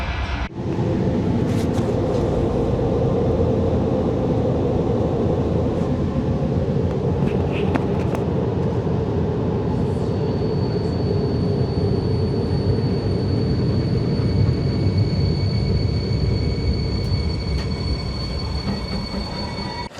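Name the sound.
train arriving at Białystok railway station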